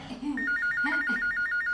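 A telephone rings in a Turkmen New Year film, a loud, fast warbling trill that repeats steadily right after a brief murmur of voices.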